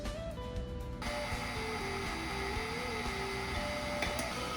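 Electric mixer beating red velvet Swiss roll batter after dry ingredients are added to wet, a steady close motor whir with shifting pitch throughout.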